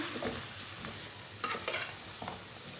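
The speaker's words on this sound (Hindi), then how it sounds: "आलूओं को 5 मिनट के लिए भून लेंगे।" Half a kilo of chopped potatoes frying in a pan over medium heat while a spoon stirs them for aloo palak, a faint steady sizzle with a few soft scraping strokes near the middle.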